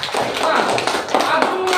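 Short burst of classroom clapping for a student during an Islamic religious education lesson, several pairs of hands tapping quickly and fairly close, with a teacher's voice speaking over it.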